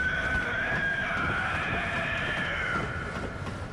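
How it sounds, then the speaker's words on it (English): A monstrous, drawn-out roar from the Cleric Beast, the first boss in the video game Bloodborne, holds as a loud, strained, shrieking tone over a noisy rumbling bed for about four seconds without a break. "That was the sound of the Cleric Beast, the first boss in this game."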